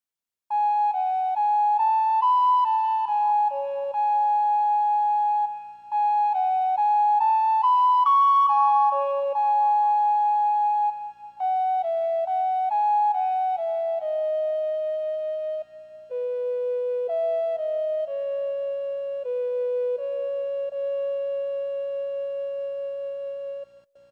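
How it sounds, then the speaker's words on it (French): The main theme of the PS1 game Vandal Hearts: a simple, pure-toned melody of sustained notes plays slowly and alone, drifting gradually downward in pitch like a gentle chiptune theme. "Ce que vous venez d'entendre là, c'est le thème principal du jeu"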